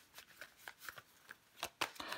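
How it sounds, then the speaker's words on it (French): Tarot cards being shuffled and dealt out, giving a run of soft papery riffles and flicks, then several sharper snaps as cards land near the end, close up and alone. "On va recouvrir des cartes."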